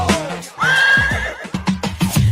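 A horse neighs in a long, rising whinny, preceded by a short snort and followed by several quick, throaty nickers, loud and close with no talk.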